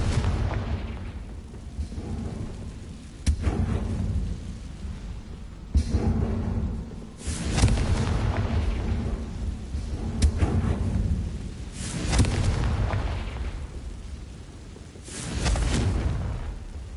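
Fiery Confringo spell blasts in Hogwarts Legacy on PS5, a series of booming, rumbling bursts with sharp cracks recurring every few seconds over a dense low roar, loud and close, with no talking.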